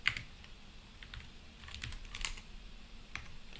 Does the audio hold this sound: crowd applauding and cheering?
no